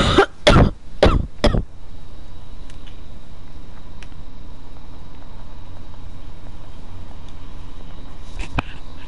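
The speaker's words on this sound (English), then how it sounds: "you know, it's just a cough." A character in the Telltale Batman video game coughs four times in quick succession, loud and close, followed by a steady low hum and a few faint clicks.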